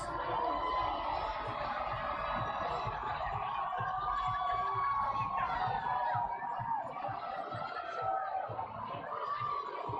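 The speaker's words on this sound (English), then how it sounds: "the crowd keeps on getting louder" Large outdoor crowd of fans at the Philadelphia Eagles Super Bowl victory parade, a steady loud roar of voices and cheering lasting throughout, with a faint rising tone that may be a distant siren.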